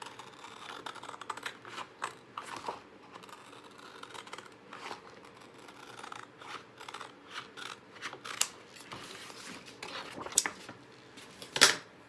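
Scissors snip out a piece for a vintage Santa wood Christmas sign, a run of crisp, close cuts and paper rustles in an uneven rhythm, with a few sharper snaps near the end and no talking.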